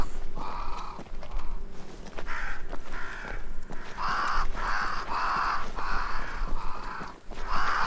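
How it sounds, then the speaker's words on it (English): Crows caw repeatedly in a video game set in Banishers: Ghosts of New Eden's forest, a flock heard fairly close with clustered harsh calls, some overlapping, against quiet ambient background and faint steps. "Crows. They flock to that great tree up there."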